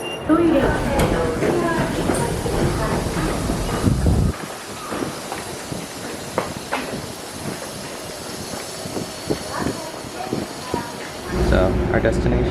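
Keikyu line train ride, a steady rumbling carriage hum with rail clatter and a brief hiss, loud at the start and end with a quieter stretch in between, and people talking over it.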